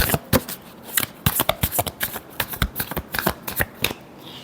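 A deck of tarot cards is shuffled close up in quick riffling bursts, a rapid series of crisp flicks and slaps with short pauses between them and no speech.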